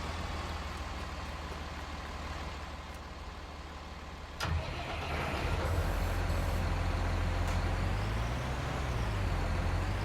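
A tractor engine in Farming Simulator 19 drones steadily and loud, with a sharp hiss or clunk midway before the engine note deepens and grows fuller, no talking over it.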